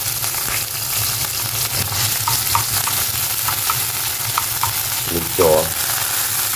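Kangkong (water spinach) fries in a little oil with a continuous sizzle and crackle, alongside stirring scrapes. A brief voice cuts in near the end.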